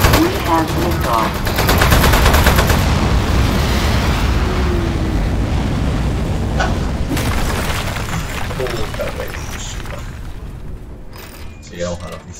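Rapid automatic gunfire and booming blasts in the video game Aperture Desk Job, a dense loud barrage that gradually thins out toward the end, with a voice briefly heard.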